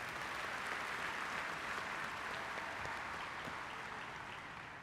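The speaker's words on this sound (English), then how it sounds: "Let's give them a big round of applause, please." Steady, dense applause from a large audience at a 2023 Fairport school district graduation ceremony, loud and continuous for the whole stretch with no talking over it.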